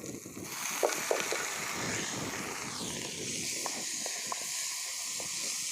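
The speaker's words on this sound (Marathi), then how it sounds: "टोमॅटो पण मस्त परतून घ्यायचे" Tomato and onion sauté together in a pan, a soft continuous hissing sizzle with occasional light clicks and taps of a spoon, fairly quiet and steady.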